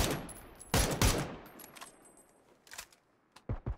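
Rifle fire from a Mark 12 in PUBG during a pro scrim match: a few sharp shots in quick succession, a short burst a little later and more spaced cracks near the end, with no talk.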